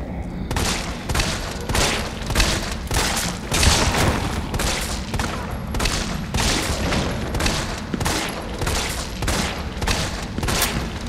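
Rapid, continuous gunfire from shooting enemies in the Resident Evil 3 Remake video game, loud sustained bursts of shots repeating steadily throughout, dense and close.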